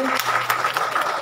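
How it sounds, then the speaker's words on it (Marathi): Audience applause after a traditional Maharashtrian Mangalagaur dance by a women's troupe at a Kotawade naman event, a dense, steady clapping crowd heard under a voice speaking. "जोरदार टाळ्या झाल्या पाहिजे"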